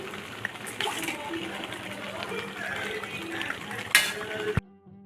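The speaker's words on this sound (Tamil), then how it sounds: "இப்போ தாளிப்பு போட்டுட்டு நிறுத்திட வேண்டியதுதான்" Tempering sizzles in a pan of tomato thokku with a steady crackling fry and occasional utensil clinks against the pan. A voice is heard faintly underneath, and the sound cuts off abruptly near the end.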